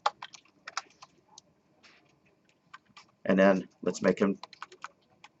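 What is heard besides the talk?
typing on a computer keyboard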